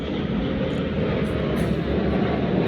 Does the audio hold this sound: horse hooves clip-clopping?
no